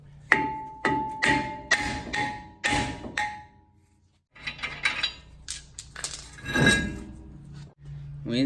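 A hammer strikes the wheel hub of a 2015–19 Ford F-150 during hub bearing replacement. Four evenly spaced metallic blows ring out, a pause follows, then several lighter taps and clinks while someone talks.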